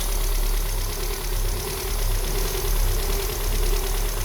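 A car engine runs steadily throughout with a low, continuous hum and a faint knocking texture, while a vacuum leak is tested by spraying foam around it and the intake diaphragm is ruptured. No voices are heard.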